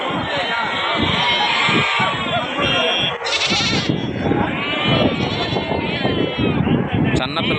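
Sheep and goats bleat repeatedly at a busy livestock market in Gudur, close and loud over a constant crowd hubbub, with people talking throughout.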